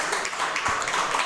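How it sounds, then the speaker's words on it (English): A brief burst of applause from a live audience in a pizza restaurant, welcoming a hockey coach named Dave; a short, dense spatter of clapping hands at moderate volume. "Let's give a round of applause for Dave."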